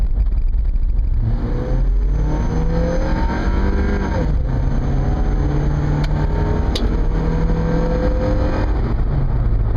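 A Subaru's 2.2-liter engine revs steadily from inside the cabin, its pitch climbing and falling through gear changes with a constant loud drone.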